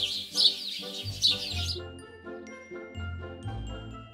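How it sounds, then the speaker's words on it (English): Bright, twittering bird chirps over a soft, steady musical backing, busiest in the first half and fading out after about two seconds. "The sound of birds,"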